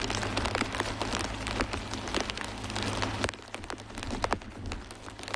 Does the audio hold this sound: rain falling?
yes